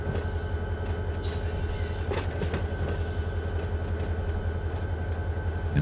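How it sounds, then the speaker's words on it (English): A freight train rolls past steadily in the Run 8 Train Simulator III game, with a constant rumble and clacking wheels plus a few sharp metallic clicks, alone without talk. "all I gotta do is wait for the train to pass."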